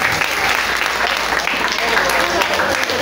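A crowd claps together at a temple during a Dasara Navaratri festival, thanking the priests: dense, steady applause close by for about three seconds, with voices mixed in underneath.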